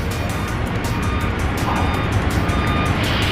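Vehicles drive off a large ship during unloading in heavy rain, a constant loud rumble of engines and steady rain noise with no clear single pass-by and no talk.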